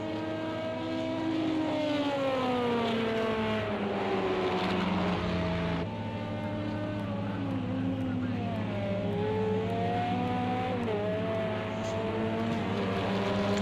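LMP1 prototype race car in a racing game, its engine droning continuously and rising and falling in pitch as it takes corners at 130 to 140 mph, with a commentator talking throughout.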